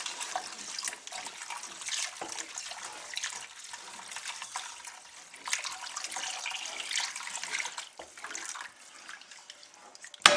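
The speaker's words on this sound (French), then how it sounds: "on va incorporer notre bouillon de crevettes" Shrimp broth poured into a cooking pot, a steady liquid splashing and trickling that runs continuously at moderate level, alone with no talk.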